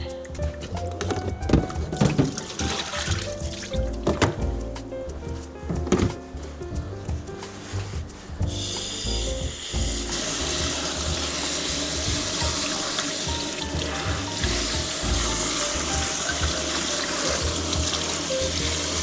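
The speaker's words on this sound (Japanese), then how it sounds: "水洗いしております。" Tap water runs and splashes steadily into a sink while a brush and bean sprouts are rinsed, with scattered knocks and clatters early on.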